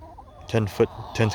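Seven hens in a converted playhouse coop giving short clucking calls in a few quick bursts, close by.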